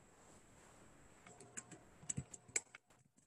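Keystrokes on a computer keyboard during a typographic design lesson, starting after a quiet second as a faint, irregular run of light clicks close by, with no talking.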